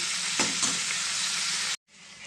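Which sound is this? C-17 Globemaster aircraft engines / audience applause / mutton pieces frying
mutton pieces frying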